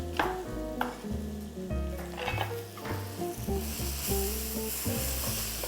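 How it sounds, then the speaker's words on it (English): Onions fry in a pan for a chicken pilaf, with a soft continuous sizzle and occasional stirring under background music, fairly quiet throughout. "Remember just to check on your onions so they're getting a nice sort of translucent colour"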